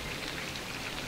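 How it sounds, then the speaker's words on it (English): Steady rain in Extremadura, Spain patters densely and evenly, a soft continuous hiss of drops with no other sounds. "As predicted, the rain is coming."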